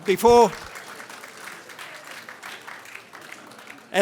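Scattered applause from an evening convocation meeting audience for panel members after a question-time session, a brief voice at the start, then a thin, moderately distant clapping wash that holds steady without a peak.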